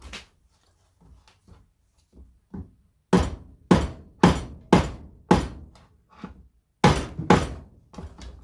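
Sharp knocks and taps on a 138cc LawnKing lawnmower engine being pulled apart, a few light taps followed by a run of heavy, evenly spaced blows, close by with silence between them.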